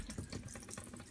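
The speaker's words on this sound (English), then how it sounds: "water pours out of the bathroom cabinet and onto the floor" Water runs steadily from a newly fitted kitchen sink tap in a caravan, a continuous close gushing wash with no voices.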